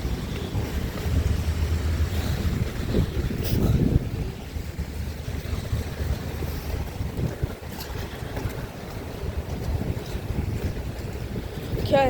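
Strong wind gusts across Tower Bridge over the River Thames in London, a constant loud roar and buffeting on the microphone that lasts throughout, with faint traffic and a voice now and then underneath.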